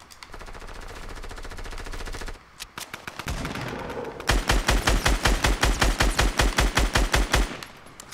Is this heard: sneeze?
no